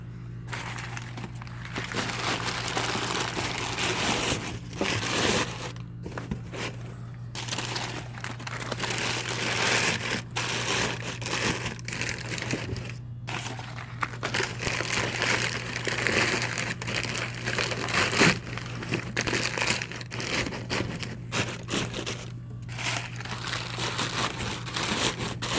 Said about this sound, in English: I'm going to use packing paper.